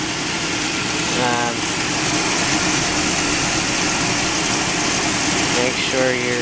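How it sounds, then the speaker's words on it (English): A Chevy Silverado engine idles through a cooling system flush with straight antifreeze, a steady low hum under someone talking. "turn the engine on, and let it run like that with straight antifreeze"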